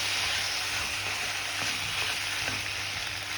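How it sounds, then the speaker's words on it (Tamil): Boiled pasta is stirred into butter and sautéed garlic in a pan, giving a steady soft sizzle with faint scraping stir strokes, close and continuous with no voices. "இப்போ வெந்து போன பாஸ்தாவை இதில் சேர்த்துக்கலாம். சேர்த்துட்டு நல்லா கிளறி விட்டுருவோம்."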